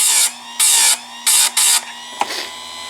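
A chainsaw chain is sharpened on a worn, rounded grinding stone: four sharp bursts of high, harsh grinding, each a fraction of a second long, separated by a lower whirring motor, then a brief metallic click.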